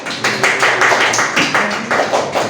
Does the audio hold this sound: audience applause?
yes